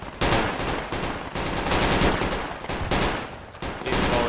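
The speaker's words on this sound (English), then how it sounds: "Yeah, I'm getting shot at here on the mortar side." Dense, sustained automatic gunfire from the military video game Project Reality, loud bursts and rapid volleys nearly continuous, broken by a few brief gaps, with no talk.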